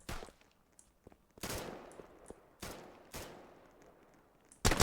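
Gunfire in a Roblox Turkish military roleplay game: several loud broadband bursts of shots, spaced irregularly, with quieter scattered pops between them and a heavy final volley at the end.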